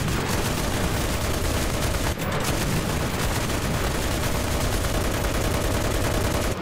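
Dense, continuous fire from the M26 Pershing tank's .50 cal machine guns in the World War II shooter Enlisted, a loud rapid rattle of shots running unbroken throughout with booming battle noise mixed in.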